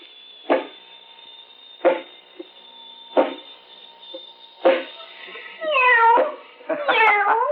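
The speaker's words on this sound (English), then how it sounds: "Pick it up. And pet the kitty. Nice kitty." A kitten meows over a steady electronic whine: four short cries come at a regular pace, then longer drawn-out calls follow, fairly close and clear.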